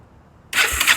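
A 2002 Kawasaki Bayou 300 ATV engine catches after a moment of near silence, jumping to a loud, close, steady running roar that holds to the end.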